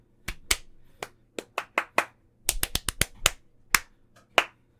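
Sharp, isolated hand claps used to sync a podcast recording, a dozen or so crisp claps in irregular groups, close and dry against near silence.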